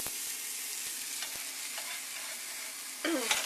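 A fruit and nut pancake with banana sizzles steadily in a buttered pan just after being flipped, a continuous close frying hiss with a few soft clicks and a brief louder scrape near the end.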